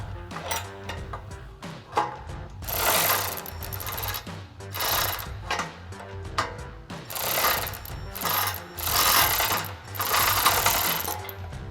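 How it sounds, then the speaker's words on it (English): Step bar bracket bolts are tightened under a Jeep Wrangler JL with a power tool, giving repeated close mechanical whirring and ratcheting bursts, each one to two seconds long, separated by short pauses. "we're also going to tighten down the main bolt from our support bracket to our main bracket"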